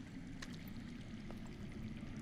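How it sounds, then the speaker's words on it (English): Underground running water in the Telltale Game of Thrones video game flows steadily as a continuous rushing, trickling wash, heard alone at moderate level throughout. "I hear water. From underground."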